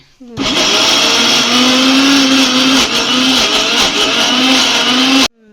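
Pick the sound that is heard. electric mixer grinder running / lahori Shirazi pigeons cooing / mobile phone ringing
electric mixer grinder running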